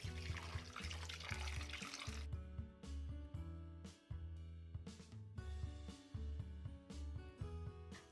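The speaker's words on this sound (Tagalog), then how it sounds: "Pagkatapos mababad ng 3 minutes, hugasan natin to ulit ng mabuti." Pork liver rinsed by hand under a running tap, a steady broadband wash of flowing water splashing into a sink, close and continuous for the first couple of seconds, then gentler splashes and drips, with background music throughout.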